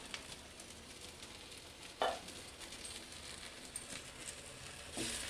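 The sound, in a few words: egg-stuffed capsicum sizzling in a pan on low flame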